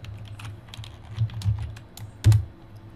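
Close computer keyboard typing while renaming a folder, a run of light irregular key clicks with a few heavier taps and one firm keystroke near the end, no voice.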